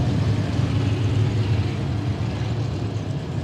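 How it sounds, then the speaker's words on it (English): The number 89 race car circles a dry, slick dirt oval at Willamette Speedway with a steady, loud engine drone and no clear revving, alone without talk. "Listen to how he is not overworking that number 89 car."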